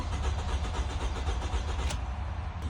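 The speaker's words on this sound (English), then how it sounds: "Engine turns over, so we have a crank no start situation." A 2014 Toyota Camry engine cranks over steadily without catching, a continuous churning starter whir held close and fairly loud for the whole stretch, with a brief sharper click near the end.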